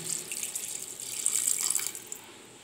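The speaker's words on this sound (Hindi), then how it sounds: "पानी लगा करके हम एक बार इसको चला देते हैं।" Water runs from a tap into a pot of rice being prepared as salted rice in a home kitchen, a steady close splashing and hissing stream for about three seconds with no voices.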